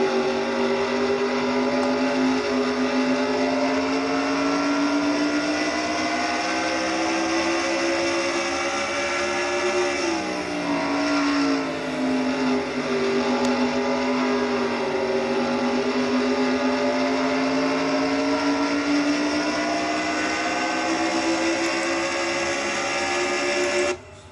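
Chevy Camaro stock car racing at over 150 mph in a Nationwide Series race at New Hampshire, heard from a front bumper cam: a continuous loud, high engine drone with wind roar, dipping briefly in pitch midway.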